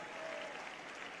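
Congregation applauding during a church service, a brief faint continuous patter of clapping heard from a distance.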